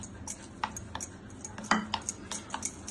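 A spoon stirs a chilled, thickened sabudana fruit custard dessert in a bowl, giving sparse, light clinks and scrapes against the dish, close and fairly quiet, with soft talk in the background.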